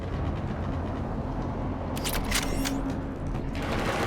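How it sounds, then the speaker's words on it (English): Mass Effect gunfire crackles in a short burst of rapid, distant shots over a constant low rumbling game ambience, lasting about a second and a half near the middle of the stretch. "Gunfire. They are near."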